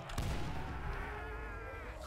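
A grenade blows up in Call of Duty: World at War zombies on the UGX Comosea custom map, a single sharp blast followed by a long low rumbling roar that slowly dies away.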